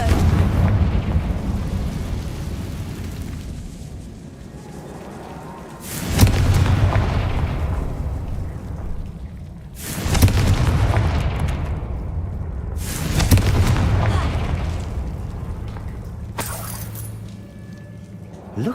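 Confringo blasting-curse explosions in the Hogwarts Legacy game: four loud, deep booms at irregular intervals, each decaying into a rumbling tail over a low background ambience.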